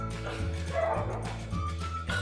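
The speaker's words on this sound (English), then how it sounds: "You can hear my dogs barking probably." Household dogs bark repeatedly from nearby, a run of steady, fairly loud woofs with barely any talk.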